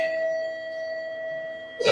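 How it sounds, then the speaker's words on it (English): An electronic school bell tone at a high school sounds as a sustained steady ring, heard alone and fairly clear until a brief noise cuts in at the end. "is that the school bell?"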